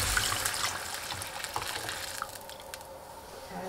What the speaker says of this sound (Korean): 가운데까지 바글바글 끓으면 육수 다 부어주세요